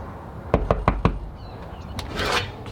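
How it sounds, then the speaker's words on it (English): Four quick, sharp knocks rap on a shop door in an even rhythm, followed by a fainter single tap and a soft rustle against quiet room tone. "Hey, who's knocking?"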